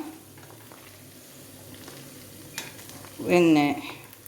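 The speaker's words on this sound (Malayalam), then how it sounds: "ഇപ്പം നമുക്കിതിൽ 2-3 പ്രാവശ്യമായിട്ട് വറുത്ത് കോരാം." Dried fish frying in oil for a homemade pickle, a quiet low simmer that flares into a louder burst of sizzling and stirring midway before settling again.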